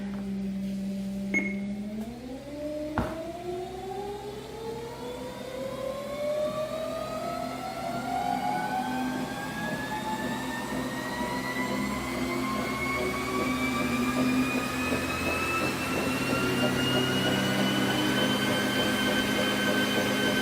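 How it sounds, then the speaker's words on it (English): A NordicTrack T 6.5 S treadmill spinning up to top speed, its motor whine climbing steadily in pitch over a constant belt rumble, loud and close, with no voices. "I'm going to turn it up to the highest speed to see if we get any"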